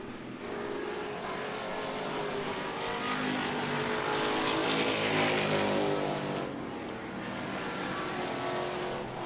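Modified and Pro Stock race cars roar around Tucson Speedway, their engines a loud, continuous drone that rises and falls as the cars pass, with no talk over them.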